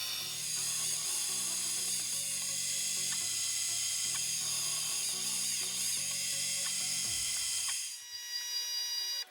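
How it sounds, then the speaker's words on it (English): An iron cage for a linear generator being milled and drilled on a machine, a steady high-pitched mechanical whine with stepped, repeating cutting tones that cut off near the end. "First, I milled and drilled the iron cage"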